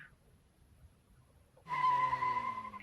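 In the video game Mr Love: Queen's Choice, after a quiet moment a taxi's sudden high tire screech bursts in close and loud, holding a shrill squealing tone before fading slightly.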